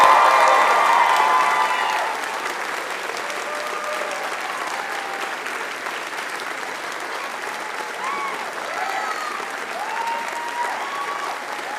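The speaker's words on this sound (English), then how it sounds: "So please thank them both by clapping and giving them a cheer." Sustained applause from a large audience at an Aberystwyth University graduation ceremony, with scattered cheers and whoops. It is loudest at first, then settles into steady clapping that carries on throughout.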